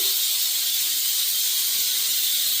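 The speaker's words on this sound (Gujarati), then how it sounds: "કુકરની સીટી વાગે છે" A home pressure cooker on a kitchen stove lets off its whistle: a steady, loud, unbroken rush of high hissing steam that lasts the whole moment with no voices over it.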